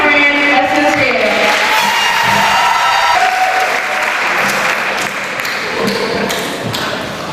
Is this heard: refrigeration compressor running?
no